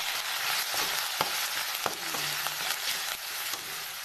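Bell peppers with turmeric, red chili and salt sizzle steadily in a pan while a spoon stirs them, adding a few soft scrapes and clicks over the continuous frying hiss.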